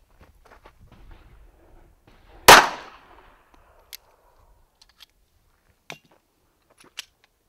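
A handgun fires a single .380 PMC 90 grain ball round into a Level 3A ballistic vest at close range. One sharp, loud crack is followed by near silence and a few faint clicks and small handling sounds.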